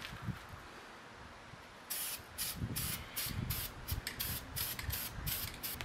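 An aerosol spray paint can hisses in a series of short, rhythmic bursts laying a light coat on a boosted F23 Honda Accord, starting after a quiet moment and repeating close and fairly soft.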